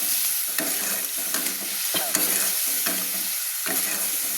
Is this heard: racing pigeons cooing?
no